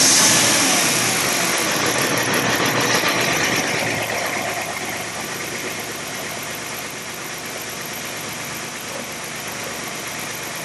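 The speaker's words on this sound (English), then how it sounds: "Now I'm going to start the engine and we'll let it idle." A car engine turns over and settles into a steady idle, loud at first and then easing into an even, continuous hum that carries on alone for the rest of the stretch.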